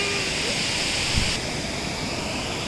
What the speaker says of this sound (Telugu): And finally at water falls.